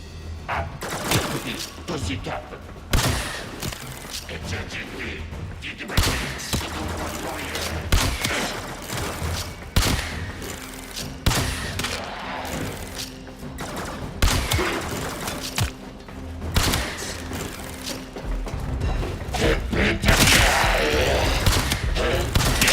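Primary weapon gunfire from the Warframe video game, with dense bursts of rapid shots and impacts repeating throughout, loud and busy over game effects and a low background drone.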